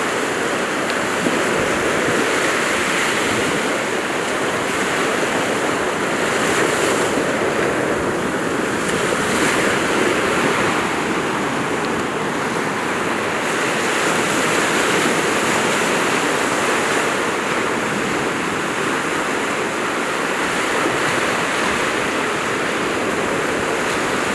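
Waves of the East Sea roll onto Hwajinpo beach in Goseong, Gangwon, a loud, constant roar of surf with gently swelling washes and some wind noise, with no one speaking.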